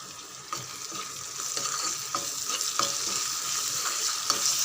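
Onion, tomato and curry leaves sautéing in a pan, a close, steady sizzle broken by repeated scraping stirs at a regular rhythm, with no voices.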